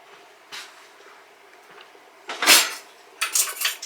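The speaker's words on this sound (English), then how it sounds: "first I'm going to mix all this up" Bread dough ingredients, including freshly milled hard white wheat flour, yeast, egg and honey, are stirred in a bowl, giving a few scraping clinks of utensil against the bowl between quiet pauses.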